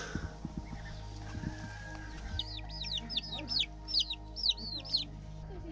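Rooster on a trail in Guatemala, giving a series of short, loud clucking calls close by, repeated in quick bursts over a low steady background hum.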